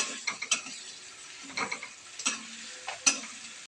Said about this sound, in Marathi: आता त्यामध्ये कांदा घालून घेऊ आणि कांद्याला पण छान असं हलवून घेऊ